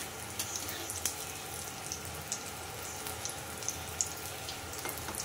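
Ash gourd pakoras fry in hot oil, a constant close sizzle dotted with small sharp pops and crackles, with no speech over it.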